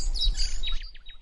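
Young birds chirp in rapid high-pitched tweets, a busy run of calls followed by a few clearer descending peeps, close and fairly loud.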